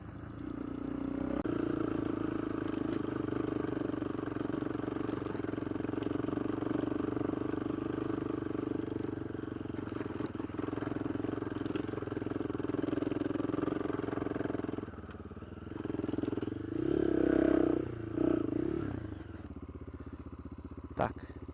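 A Kovi ADT 300 off-road motorcycle rides through fields, its engine droning steadily up close with a brief dip and then a revving surge near the end. A rider talks over the engine noise.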